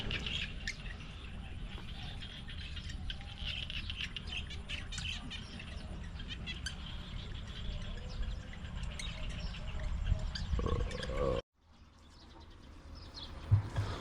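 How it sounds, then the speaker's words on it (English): Outdoor countryside ambience in Cambodia with birds chirping and squawking over a steady bed of frogs and insects, faint and continuous, briefly cutting out near the end. "We can hear nature. We got frogs, birds."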